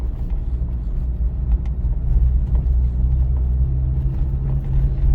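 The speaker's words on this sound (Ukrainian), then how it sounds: "Дорога тут така погана, я зараз їду на першій передачі" Inside a car crawling in first gear over a rough, potholed road, a continuous low rumble and engine hum are heard, with small bumps and knocks from the uneven surface.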